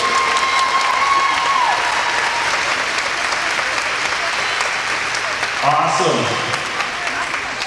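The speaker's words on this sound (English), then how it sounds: "Give Caitlin's team a nice round of applause" A crowd at the Saugeen Shores Battle of the Blades skating event gives a team sustained, dense applause that stays loud throughout, with a brief voice near the end.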